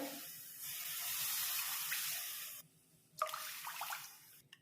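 Water pours in a steady rush for a couple of seconds, stops briefly, then splashes again in a shorter, uneven pour, close by and fairly quiet.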